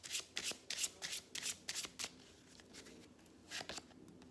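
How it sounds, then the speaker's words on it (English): Tarot cards being shuffled by hand, a run of quick riffling bursts in an uneven rhythm, close and fairly quiet, with short pauses between them and no voices. "But I'll pull 3 more cards."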